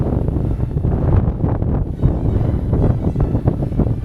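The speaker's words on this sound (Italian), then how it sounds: "Che vento." Strong wind buffets the microphone on an exposed hilltop at the Nuraghe Arcu Pintau stone ruin in Castiadas, Sardinia, a loud, steady roaring rumble with gusty surges throughout.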